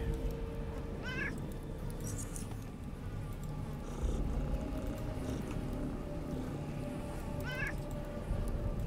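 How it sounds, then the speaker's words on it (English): Cats in the video game Underrail, repeated meows and purring over a steady ambient background, with two sharper yowls standing out several seconds apart. "So, the cats are the problem."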